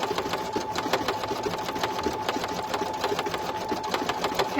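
An embroidery machine stitches an in-the-hoop sleep mask with a steady, rapid, mechanical needle rhythm, moderately close and alone.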